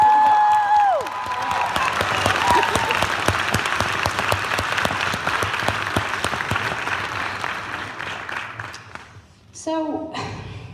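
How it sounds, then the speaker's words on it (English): A sustained round of applause and cheering from a crowd honoring women's sports teams at a university event, steady dense clapping for about nine seconds after a trailing tone, then a brief late burst. "So give them all a round of applause right now."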